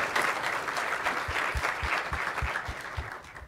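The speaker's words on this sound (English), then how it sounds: "So let's give them a round of applause." Audience applause fills a conference plenary session on youth climate leadership, a steady wash of many hands clapping at moderate distance with no talk over it, holding throughout the short stretch.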